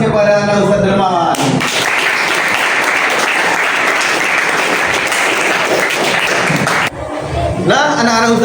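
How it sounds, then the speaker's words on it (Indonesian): Loud, sustained applause from an audience clapping for a child at a religious school gathering, bracketed by speech at the start and end. "Ayo kita berikan aplaus kepada anak Ustaz Dermawan."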